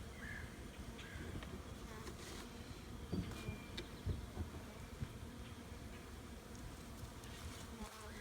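Honeybees buzzing around a hive during a new bee package install, a dense steady drone filling the air outdoors, moderately faint with a few close passes and light knocks, no talk.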